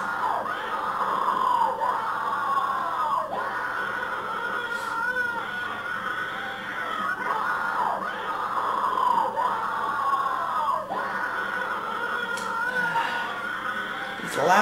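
Loud screaming sits in the background of a creepypasta video as repeated wavering, rising-and-falling cries, several in a row over a continuous noisy bed.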